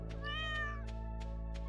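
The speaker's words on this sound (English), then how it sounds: "Stupid cat." A cat meows in the Stardew Valley farming game, one clear drawn-out meow over a steady in-game music bed, with short sharp game sound effects ticking around it.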